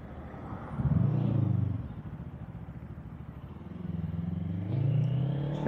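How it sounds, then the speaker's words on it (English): An FKM Falcon X400 motorcycle rumbles through its exhaust with a low, steady engine note that rises twice as the throttle is opened and then settles back between the revs. "Parang hindi mo na kailangan palitan yung exhaust nito until magsawa ka sa tunog niya."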